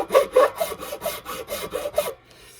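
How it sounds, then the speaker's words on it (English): A file rasps down a guitar nut in about eight quick, rhythmic back-and-forth strokes, close and distinct, then stops; no talking. "as I file, those little gaps fill up with powder from the fret, from the nut"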